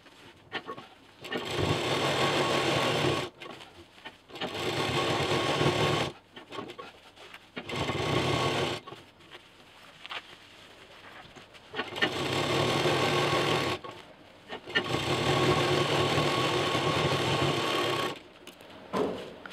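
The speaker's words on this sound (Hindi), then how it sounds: "ये जो जिप वाला पीस था इसको चारों तरफ से हम पैक करके सिल देंगे" A sewing machine stitches all four sides of a zippered piece for a cloth bag, running in several steady whirring bursts separated by short pauses, close and clear with no talking.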